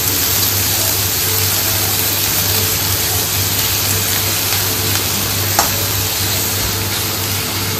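Onions frying in hot mustard oil in a home kitchen pan, a loud steady close sizzle that runs unbroken throughout, with no talk.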